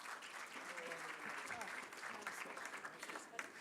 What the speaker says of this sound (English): A hand of applause for Amin Musa.